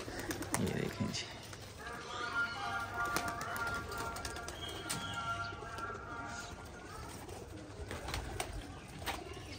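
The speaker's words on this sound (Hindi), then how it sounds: "कबूतर निकाल रहे हैं।" Pigeons released on a rooftop in Rawalpindi, Pakistan, cooing and fluttering their wings amid soft background noise, with someone talking intermittently under them.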